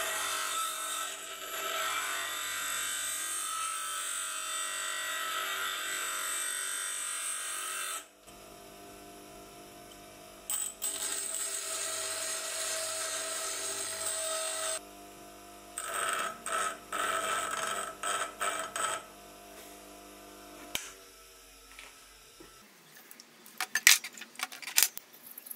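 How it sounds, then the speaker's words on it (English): Freehand grinding of a high speed steel blank into a worm gear cutter, a steady abrasive hiss and whine for several seconds, then quieter broken passes with scraping touches near the end; close and alone. "I'll freehand grind it from a high speed steel blank"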